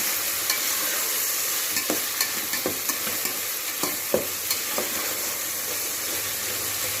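Tomatoes softening in a pan for egg biryani, with a soft steady sizzle and a series of spatula scrapes and clinks as they get stirred, close and clear, no speech.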